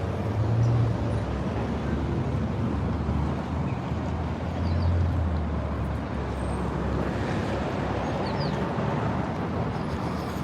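Steady road traffic at the new LAX airport pickup zone, a continuous rumble of car engines and tyres close by with no pauses, unbroken for the whole stretch.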